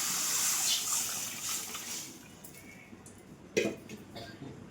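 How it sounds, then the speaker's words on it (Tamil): Dissolved tamarind water is poured into a pan, a soft, steady liquid splash that fades, followed by a brief louder splash near the end, faint and close. "இப்போ புளி கரைச்சதை வந்து ஊற்றிடலாம்"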